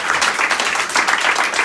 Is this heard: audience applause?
yes